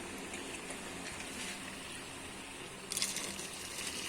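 Water pours steadily into a bowl over button mushrooms and wood ear mushrooms set to soak, a soft continuous splashing gush that grows slightly brighter toward the end.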